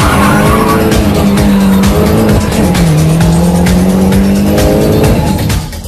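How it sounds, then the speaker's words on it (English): Loud roaring engine of a Mini Cooper race car on a track, with sustained tire squeal and skidding as it spins out of control, rising and falling whine before easing off at the end. "After 15 laps of the track, Gavin is heading the pack, when suddenly he spins out of control and drops back in the field"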